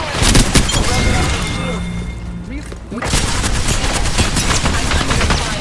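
Rapid, loud gunfire from Apex Legends fills the clip, dense automatic bursts with a brief lull before the shooting resumes in sustained volleys.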